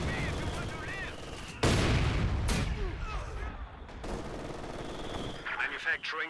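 Machine gun bursts and explosive gunfire from a Company of Heroes 2 battle, with mortar barrages in the mix, loud and dense over a constant battlefield bed while a voice talks over it.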